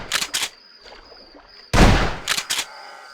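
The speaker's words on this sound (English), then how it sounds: "this should be fairly simple with a shotgun" A shotgun is fired at a T-Rex in a Jurassic Park hunting game, one loud sharp blast with a short rumbling tail, with quick mechanical clacks of the weapon being handled before and after it.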